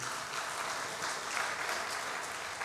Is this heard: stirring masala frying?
no